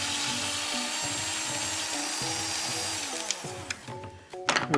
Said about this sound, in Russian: пользуюсь шуруповертом, таким небольшим, специально брал такой